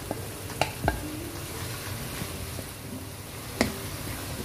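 Tomato sautéed with browned garlic and red onions in a pan, giving a soft continuous sizzle broken by occasional spoon knocks and scraping strokes.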